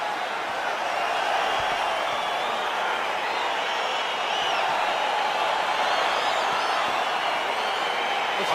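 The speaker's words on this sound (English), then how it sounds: "crowd getting excited as this fight gets underway" A UFC arena crowd roaring as a fight gets underway, a dense, steady wall of cheering and shouting that stays loud and even throughout.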